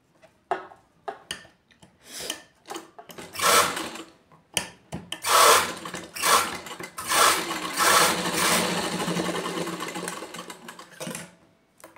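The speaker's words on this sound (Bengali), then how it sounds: "ধরে মেশিনে এখানে সেলাই দিতে হবে।" A sewing machine stitches fabric for a nightie in bursts of rapid, rattling mechanical whirring, starting and stopping several times with short pauses between runs, close and fairly loud with no talking.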